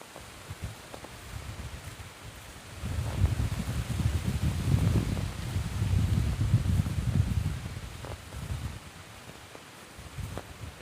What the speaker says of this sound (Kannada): ಗಾಳಿ ತುಂಬ ಜೋರಾಗಿ ಬರ್ತಾ ಇದೆ.